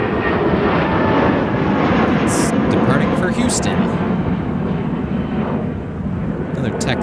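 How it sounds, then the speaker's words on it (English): United Airlines Airbus A319 taking off from Minneapolis–St. Paul Airport toward Houston, a loud, steady broadband jet engine roar that fills the whole stretch and eases slightly near the end, with voices talking beneath it. "Airbus A319 in charge of that flight."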